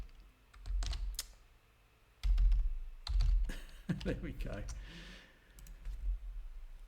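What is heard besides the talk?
computer keyboard being typed on rapidly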